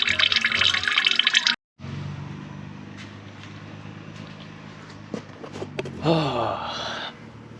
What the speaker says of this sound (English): Can't believe this shit's still draining.